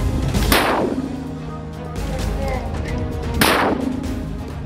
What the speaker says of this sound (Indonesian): Brigade Mujahidin menghantam kumpulan tentara Zionis Israel dengan menggunakan mortir kaliber 60 mm